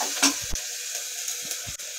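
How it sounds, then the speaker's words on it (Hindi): Onions frying in a pan with garlic for a bottle gourd and chana dal, a short steady sizzle close by with a few soft stirring knocks. "हमारे प्याज अच्छे से मैं इनको भून लूंगी"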